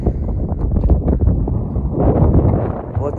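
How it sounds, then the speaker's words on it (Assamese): Strong cold wind blows across a hilltop road, heavy low buffeting gusts batter the microphone loudly and continuously, with a brief surge near the end. "বহুত চালিয়া বতাহ মাৰিছে"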